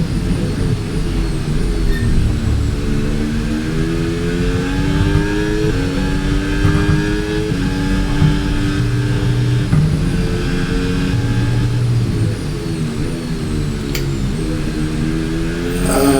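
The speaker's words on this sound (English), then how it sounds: "Verstappen and Norris are scrapping for first position." F1 race cars in the F1 26 video game at Bahrain, engines droning loud and steady with rising and falling pitch as they race, several cars blending together without any speech.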